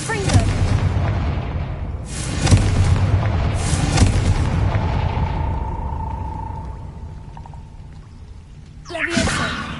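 Confringo spell explosions in Hogwarts Legacy on PS5, several heavy booming blasts with long rumbling decays, a faint lingering tone between them, then another sharp burst near the end.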